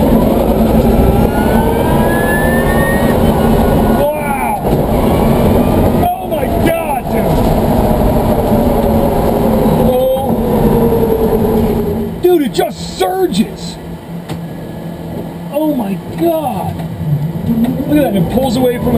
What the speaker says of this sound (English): is that the tire burning out?